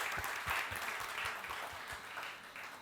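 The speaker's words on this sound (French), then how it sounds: "on les applaudit" A church congregation applauds a few first-time visitors, a steady dense patter of many hands clapping at moderate distance, easing slightly toward the end with no talk over it.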